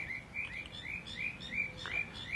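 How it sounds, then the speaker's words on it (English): A small bird chirps outdoors in a repeated series of short, bright, high tweets over quiet ambient noise, with no talking. "You stupid bird."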